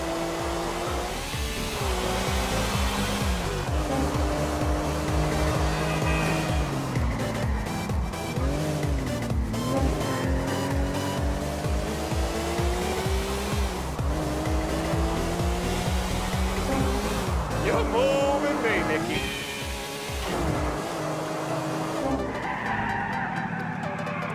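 A car races through a Grand Theft Auto IV mission, its engine revving and whining as the tires squeal through repeated hard turns, loud and steady for the whole stretch.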